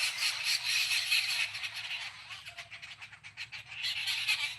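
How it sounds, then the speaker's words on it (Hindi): Many small birds chirp together near a tree outdoors in sunshine, a dense, steady twittering chorus that carries on without pause at moderate loudness. "कितनी सारी चिड़िया बोल रही हैं, आप लोग सुनो"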